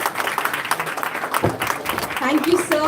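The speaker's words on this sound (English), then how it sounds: "Let's give a really good round of applause." Conference audience applauding after an inaugural address: a dense patter of hands clapping fills the room, with a voice speaking over it.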